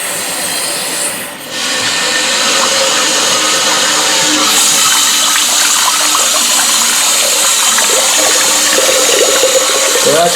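A toilet tank refills with water after its rusted tank bolts are replaced. The water rushes loudly and steadily for about ten seconds, close by and uninterrupted.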